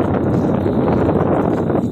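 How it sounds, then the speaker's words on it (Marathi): Strong outdoor wind buffets a handheld phone microphone in a dense, continuous low rumble, with no speech. "वारा आला"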